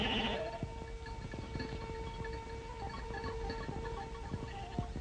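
A flock of sheep bleating, guarded by a Šarplaninac sheepdog, with several overlapping bleats at varied distances over steady outdoor background noise and no talking.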